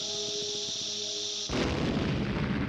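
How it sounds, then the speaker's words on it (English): Bombette's bomb going off in the Paper Mario video game, a sudden booming explosion cutting in halfway through over game music, then a sustained rumbling roar of noise continuing to the end, with no talking. "We can blow this up."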